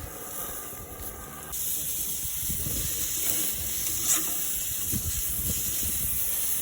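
A rib-eye steak sizzles on a charcoal kettle grill, a steady close hiss and crackle with small pops that swells a little louder partway through, with no talking.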